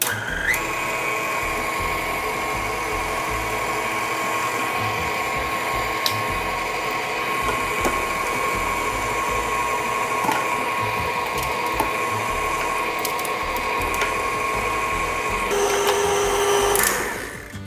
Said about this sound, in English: Now I'm just gonna turn on the grinder and then push it through.